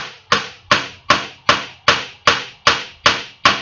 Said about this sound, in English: You just got to have a feel for the hammer